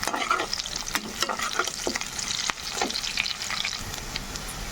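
Curry leaves hit hot oil with fenugreek leaves in the pan and crackle in a bright, continuous sizzle. Repeated scraping stirs punctuate it up close.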